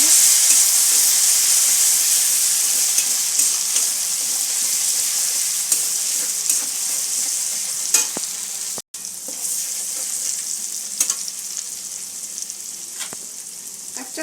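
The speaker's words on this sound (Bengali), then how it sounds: "মশলাটা একটু কষে নেব।" A spice paste with turmeric sizzles and fries steadily in a pan for a Bengali rui fish mustard dish, a close, continuous hiss broken by occasional stirring clicks.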